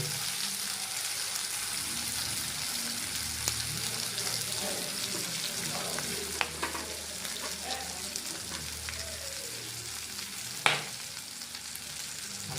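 Garlic frying with chicken in a pan for a fenugreek chicken gravy, a steady close sizzle with occasional stirring clinks and scrapes, no talking.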